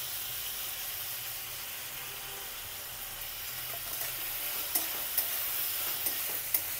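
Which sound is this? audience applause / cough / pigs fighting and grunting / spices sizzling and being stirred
spices sizzling and being stirred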